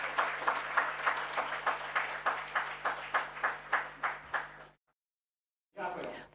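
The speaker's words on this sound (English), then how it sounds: "So this round of applause is for you." Steady round of audience applause at the opening of a health hackathon, a dense patter of many hands clapping in pulsing waves for about five seconds before it stops, then a brief burst of clapping returns.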